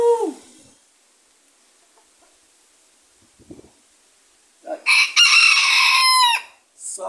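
A loud, close rooster crows in a backyard, a single long drawn-out call after a brief quiet rustle, with a short vocal sound at the start and another cluck at the end.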